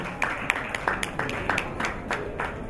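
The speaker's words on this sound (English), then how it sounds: "a round of applause for him" An audience applauds at a private sector conference on demographic dividend, a steady wash of clapping with sharp individual claps standing out, moderately close and without voices over it.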